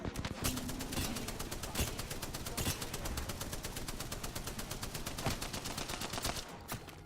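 Rapid automatic gunfire in a shooter video game rattles continuously for several seconds, loud and dense, with a few heavier single shots breaking through the stream.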